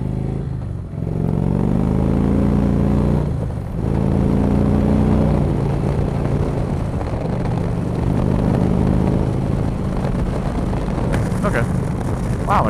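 An Indian motorcycle with a Stage 1 exhaust is ridden, producing a loud continuous low engine rumble mixed with heavy wind buffeting, with a rider talking over it throughout.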